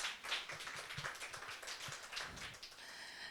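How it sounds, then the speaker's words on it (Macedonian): A meetup audience gives fairly faint, scattered applause that runs steadily for a few seconds and then tapers off, with no speech. "уште еден аплауз ве молам да ја поздравиме"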